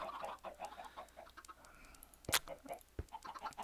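Chickens clucking in the video game Minecraft, a string of short soft clucks with one louder squawk midway, heard alone without talk.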